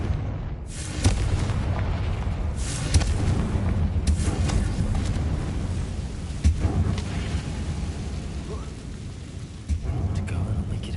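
Explosive blasts from a Confringo fire spell in the video game Hogwarts Legacy, several deep booming impacts spaced a few seconds apart over a rumbling background, with no talking.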